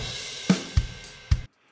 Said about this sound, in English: I load up a drummer track, which sounds like this.